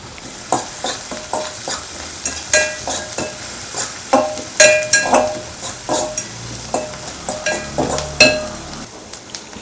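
Onions fry in a pan while being stirred until golden. A spoon scrapes and clacks in uneven strokes over a soft, steady sizzle, close and fairly loud, with no voices.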